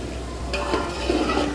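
Chickpeas being fried in masala, with a brief close stir and soft scrape over a steady background sizzle.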